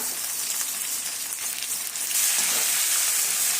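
Two green chillies frying in hot oil in a pan for chicken kuzhambu, a steady bright sizzle that swells louder midway and continues alone without talk.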